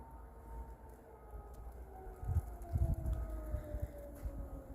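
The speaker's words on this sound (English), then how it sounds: "A siren test during a big storm." An outdoor siren test during a big winter storm: a faint, distant sustained siren tone slowly falling in pitch, set against wind buffeting and low rumbling gusts.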